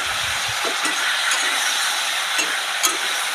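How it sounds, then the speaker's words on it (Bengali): Steady frying hiss of data chorchori (drumstick stems) in a village kitchen pan, with a few soft scraping stirs breaking through the constant sizzle. "একটু নাড়া দিয়ে দেবো।"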